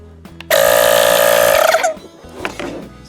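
An ACROpow cordless tire inflator, a cheap handheld model, switches on with a sudden loud steady motor and pump drone that holds for about a second and a half, then stops, leaving quieter handling noise.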